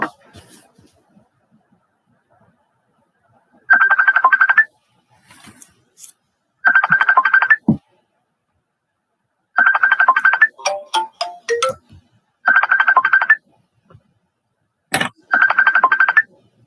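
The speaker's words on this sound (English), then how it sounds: "Sorry, my phone's ringing." A mobile phone ringtone sounds in a quiet indoor room, five evenly spaced bursts of bright electronic tone separated by pauses, with faint small clicks and knocks in between.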